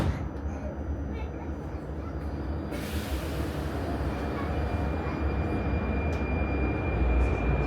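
A Prague Metro Line A train closes its doors and pulls away from the station, with a dull thud followed by a steadily building rumble and whine of departure under faint background voices.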